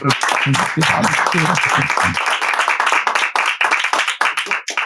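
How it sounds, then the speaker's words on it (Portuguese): An audience bursts into applause at the close of a delivery-service talk show episode, dense hand clapping that runs steadily throughout and thins toward the end, with a voice speaking over the start. "uma salva de palmas da nossa plateia"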